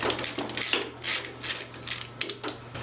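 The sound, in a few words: wrench removing 13mm distributor clamp nut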